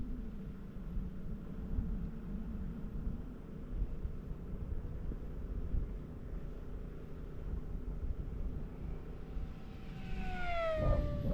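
An E-Flite V900 RC jet makes a fast, flat pass down the runway from left to right, a steady rushing hum that swells near the end and then streaks past with a sharp falling whine.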